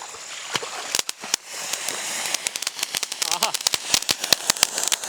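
A Diwali firecracker, once lit, crackles and pops in rapid sharp bursts over a hissing spray, loud and close, with people talking around it.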